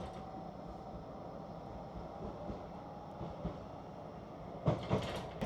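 Steady low rumble and rattle inside a Blackpool tram in motion, with a continuous broadband hum, a few soft knocks, and a brief louder clatter near the end.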